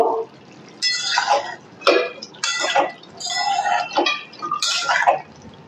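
Broccoli with kasuri methi is stirred in a pan, making intermittent scraping and clinking bursts of a utensil against the cookware with short pauses between strokes.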